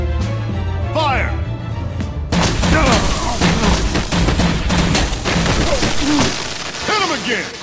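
Gunfire erupts in a Batman video game as a firing squad opens up, sharp repeated shots and booms over shouting voices, loud and close, continuing in bursts.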